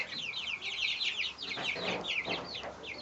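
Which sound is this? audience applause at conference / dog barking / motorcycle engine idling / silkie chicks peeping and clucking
silkie chicks peeping and clucking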